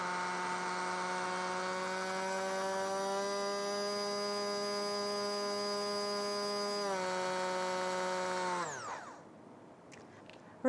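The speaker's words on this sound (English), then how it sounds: "The harder you press the trigger, the faster the blender runs." Turelar 5-in-1 immersion blender motor running with its trigger pressed, a steady high whine held for several seconds, stepping down in pitch partway, then spinning down and stopping near the end.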